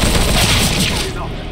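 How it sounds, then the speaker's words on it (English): A flashbang grenade goes off in a video game, a loud, dense burst of blasts and rattling gunfire-like noise that fills the whole moment before tapering slightly. "I'm throwing a flashbang."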